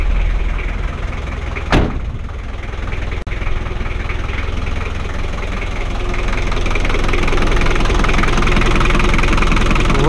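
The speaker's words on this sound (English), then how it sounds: "Rattly, rumbly diesel." A 1993 Daihatsu Rugger F78 turbo diesel 4x4 idles steadily with a rattly, knocking rumble, close and continuous, with a couple of brief clicks or thumps early on.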